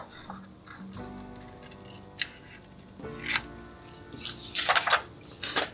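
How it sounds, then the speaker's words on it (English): Scissors snip along a strip of printed paper while making paper beads, giving a few distinct close cuts and crisp paper rustles in a quiet room. "I can go on ahead and just cut along this"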